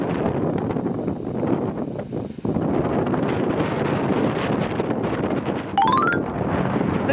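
Typhoon wind roars around Naturehike and other tents pitched outdoors, a loud continuous gusting buffet with heavy wind noise on the microphone and a brief metallic ringing near the end.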